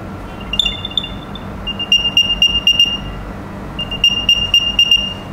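A small electronic tracker tag chirps in two bursts of quick, high-pitched beeps, fairly close and clear over a low background hum.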